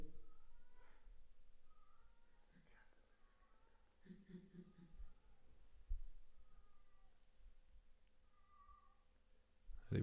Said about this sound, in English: there's a cat that lives outside under our temple.